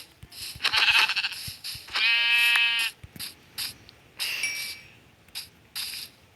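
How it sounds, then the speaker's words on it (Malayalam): Goats bleating in Minecraft Bedrock Edition: a loud, drawn-out bleat in the middle, with short game clicks and ratcheting sounds before and after it. "ഇവിടെ 3 ആട് സ്പോൺ ആയിട്ടുണ്ട് ഗൈസ്"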